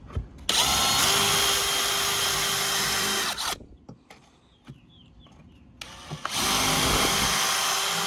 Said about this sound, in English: use like a 1/8 inch drill bit and pre-drill at an angle right in these slots right here